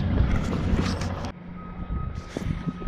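A truck backing up in a cul-de-sac sends out a steady high reversing beep over a rumbling engine and wind noise at close range.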